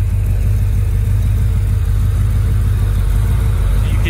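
350 small block Chevy V8 with a full roller camshaft running close by, a loud, steady rumbling idle heard alone.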